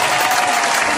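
A crowd bursts into dense, loud applause, a continuous close clatter of many hands clapping at once.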